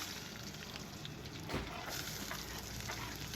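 Onions being sautéed in a hot pan for a spinach and masoor dal dish give off a steady, close sizzle and crackle of frying, with a brief surge of sizzling as they are added or stirred.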